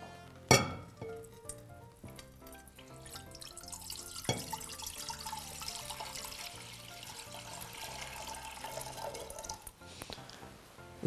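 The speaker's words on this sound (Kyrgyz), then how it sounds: "Үстүн дагы суу куябыз." Water pours steadily into a container for a few seconds, a sustained splashing rush that builds through the middle and fades near the end, heard over background music with a sharp clink at the start.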